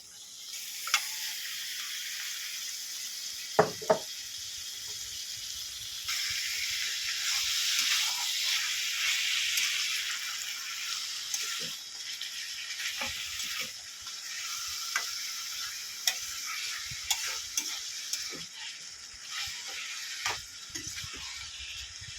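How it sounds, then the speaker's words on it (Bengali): Onions and spices sizzle softly in a pan of beef bhuna, a steady frying hiss with occasional scraping stirs and clicks of a utensil, close and fairly quiet. "মশলা আর পেঁয়াজটাকে ভালো করে ভেজে নিয়েছি সুন্দর একটা কিন্তু গন্ধ ছাড়ছে এবারে এবারে এবারে আমি এর মধ্যে মাংসটা দিয়ে দেবো"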